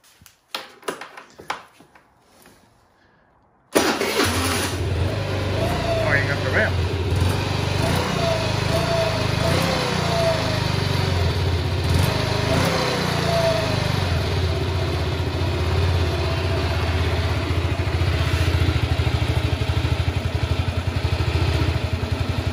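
A 2009 Kymco Agility moped's engine is cranked a few times, then catches and runs at a rough, uneven idle, a buzzy close-up putter with occasional hiccups and small revs continuing steadily.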